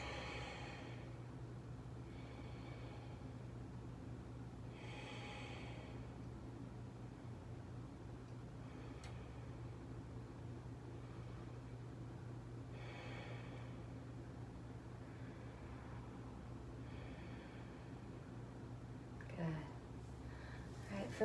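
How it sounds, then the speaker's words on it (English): Deep, slow breaths during a yoga session, about five soft, airy inhales and exhales spaced several seconds apart, faint over a low steady hum of room noise. "5 deep, slow breaths."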